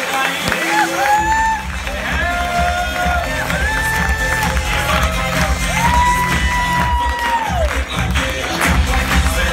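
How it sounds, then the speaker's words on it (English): A motivational talk event crowd cheers, claps and whoops in a loud, sustained roar while lively music plays over the noise, with shouts rising now and then from the audience. "Give him a big clap."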